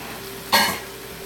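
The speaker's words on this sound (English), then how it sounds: "I'm going to go ahead and add in our bok choy and our snap peas into the stir fry." Bok choy and snap peas hit a hot stir-fry pan, giving one sudden loud sizzle that quickly fades back to a quiet background hiss.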